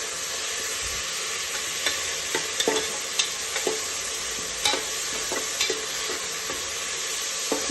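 Ingredients being dry roasted and stirred in a pan for a Kannada double beans rice bath, with steady scraping and stirring strokes over a soft continuous sizzle, close and moderately loud, with no talking.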